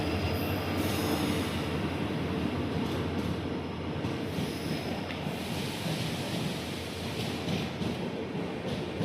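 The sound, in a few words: train arriving at station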